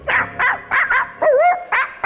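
A dog barks in a quick series of about six sharp, close yaps with a whimpering, wavering tone, played as a radio sound effect.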